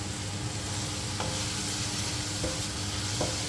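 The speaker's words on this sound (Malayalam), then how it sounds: "അപ്പം നമ്മുടെ ഉള്ളി വഴണ്ടു, എല്ലാം വഴന്നിട്ടുണ്ട്" Onions and tomatoes sauté in a pan for fish biryani, giving a continuous close sizzle with a few soft stirring scrapes and clicks and no talking.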